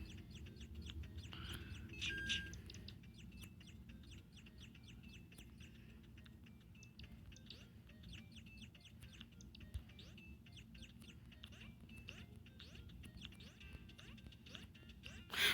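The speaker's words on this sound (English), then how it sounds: "Why is there so much birds?" Birds chirping in the video game Catbird, a dense continuous chorus of rapid tweets and short calls at low, steady loudness, with no voices.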